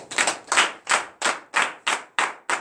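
Worshippers at a morning prayer service in Benin clapping in acclamation, about eight sharp, evenly spaced claps in a steady rhythm, close and loud with no talking.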